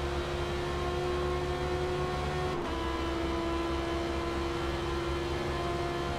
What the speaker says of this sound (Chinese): 911想和R8并排入弯，可惜没有内线的优势，911没有办法，只能被迫让出路线，刮到了R8，导致R8产生一个侧滑。